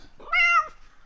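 A single loud, drawn-out cat meow, excited and eager for food, rising and falling close by in a quiet indoor space.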